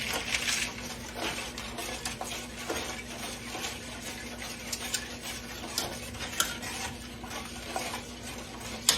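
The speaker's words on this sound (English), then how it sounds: "All right, I'm stirring again." Caramel cake icing being stirred in a pot, a soft, continuous scraping and swishing close by with faint clinks of utensil against metal, steady throughout with no talking.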